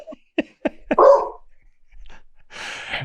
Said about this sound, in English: there's a dog in the background. There's a big dog.